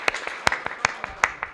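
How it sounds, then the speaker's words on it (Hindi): A few scattered, sharp hand claps sound from an audience at a Hindi poetry recitation, sparse and uneven, with several distinct louder claps among softer ones over a brief moment. "अगर आपका आदेश हो तो एक बार तालियां बजाएं।"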